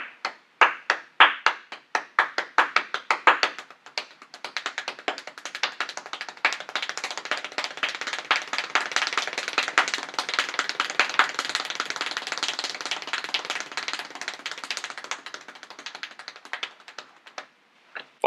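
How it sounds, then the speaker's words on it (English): A fiddler claps by hand at world-record speed, starting with slower separate claps and building into a dense, continuous rapid-fire rattle that sounds almost like typing. Close and crisp, then easing back to spaced claps at the end. "Will you give us an example of your world record clapping?"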